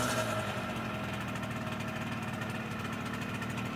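A 1974 Honda MR50 motorcycle's small engine idles with a steady, buzzy rattle. The chugging is even and continuous, fairly quiet and close, with no voices.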